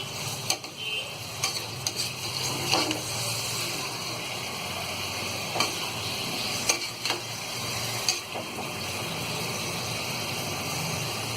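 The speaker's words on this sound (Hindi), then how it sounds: "ये मटन फ्राई हो गया है।" Mutton fries for biryani in a pan over a raised gas flame, giving a steady close sizzle with occasional faint clinks and stirring scrapes throughout.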